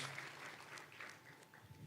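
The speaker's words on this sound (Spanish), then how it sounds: "Se merecen un aplauso." Church congregation applauding after a pastor's sermon prompt, a faint, distant and steady patter of clapping filling the space with no speech over it.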